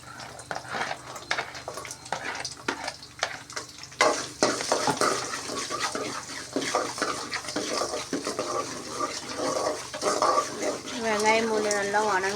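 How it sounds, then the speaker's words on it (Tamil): Onion and garlic sizzle in a pan with fenugreek while a bitter gourd tamarind curry is cooked. The frying hiss swells after a quieter opening of stirring and clinks, and a voice is briefly heard near the end. "வெங்காயம் பூண்டு நல்லா வணங்கணும்"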